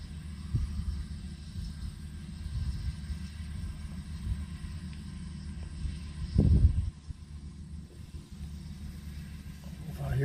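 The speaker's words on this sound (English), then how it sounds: "or no, it's that tractor, I guess." A Case IH tractor on tracks runs while shelling corn into a wagon, giving a steady low engine rumble throughout with a louder surge midway, heard from a short distance.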